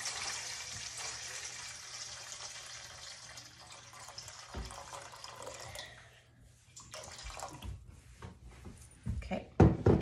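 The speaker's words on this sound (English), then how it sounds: "That's going to be 900 grams of water." Water, roughly 80 degrees, running into a bowl set on a kitchen scale for a sourdough mix: a faint, airy pouring stream that thins and breaks off, followed by a few soft knocks and clinks.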